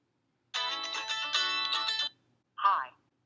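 Electronic ringtone of a telephone for an incoming net2phone call, one sustained bright ringing burst about a second and a half long, then a short pause and a brief second tone, clear and close.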